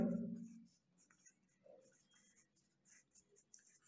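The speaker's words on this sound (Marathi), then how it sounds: "या ठिकाणी तुम्हाला नोटबुकमध्ये मी पहिलं सेंटेन्स लिहितोय." Pen or pencil writing a sentence by hand in a notebook, with short scratchy strokes in quick bursts, close and fairly faint, after a brief low thump at the start.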